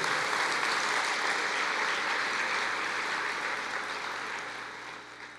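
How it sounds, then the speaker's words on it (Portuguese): A church congregation applauds during a sermon, a broad, steady roar of many hands clapping that gradually thins and fades toward the end. "Pode aplaudir ao Senhor."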